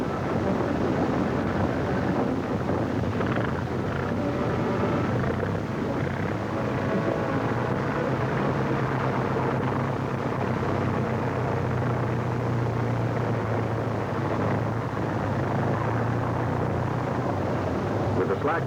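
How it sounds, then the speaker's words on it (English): WWII tow plane taxiing down a runway with gliders on tow ropes behind it, a steady droning engine rumble that swells slightly midway, continuous and fairly close, with someone narrating over it. "Tow ropes pay out as the plane taxis down the runway."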